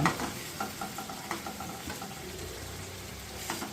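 Partly boiled potatoes sautéing with spices and a little water in a pan for aloo dum, a soft bubbling sizzle with a few quiet spatula stirs, close and fairly faint.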